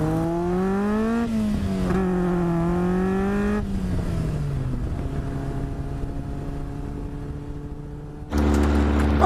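An Indy R car with a 2 litre Duratec engine and Mazda NC gearbox drives while warming up, the engine note rising and falling through revs before settling to a steadier drone, then a sudden louder burst near the end.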